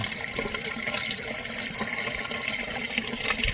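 Water spills steadily from the overflow of a backyard aquaponics system growing water spinach, a close, continuous splashing and trickling with no talk.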